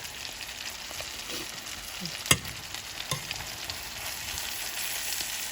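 Chicken sizzles and fries steadily in a pan, a constant crackling hiss with occasional pops and one sharp clink of a utensil partway through, with no voices.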